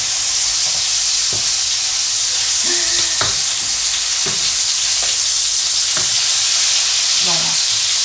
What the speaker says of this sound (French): On va encore laisser mijoter un moment.